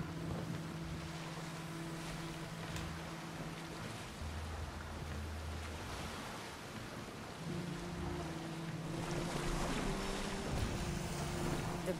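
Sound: boat sailing on water in Assassin's Creed Odyssey video game

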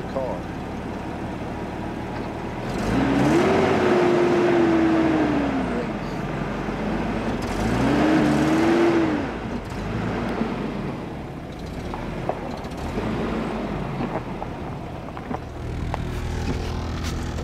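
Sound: car driving along as a pheasant races it

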